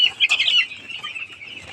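Nine-day-old poultry chicks on a farm, cheeping in high, rapid overlapping peeps that are busiest near the start and then settle into a steadier chorus.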